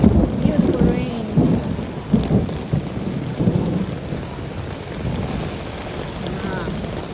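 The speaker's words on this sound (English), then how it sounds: "And the thunder, and the wind, and the rain." First summer thunderstorm in New York: deep thunder rumbles rolling in bursts over steady rain and gusting wind, fading gradually toward the end.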